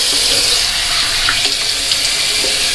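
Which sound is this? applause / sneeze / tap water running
tap water running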